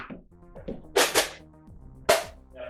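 A Nerf Rival Heracles XIX-500 foam-ball blaster fires two sharp, snappy pops about a second apart, close and loud, with quieter mechanical clicks and faint background sounds between them.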